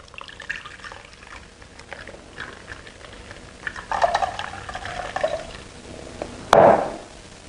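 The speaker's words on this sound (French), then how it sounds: "Et maintenant, on va filtrer. On va filtrer. Hop, j'attrape ma passoire." Green juice is strained through a sieve, heard as a soft trickling pour with light splashes, ending in a sudden sharp clatter of the strainer nearby.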